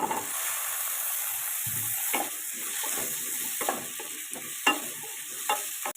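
Cut potatoes tumble into a pan of frying onion and green chilli, a steady close sizzle broken by repeated scraping stirs and a few sharper clatters, no voices.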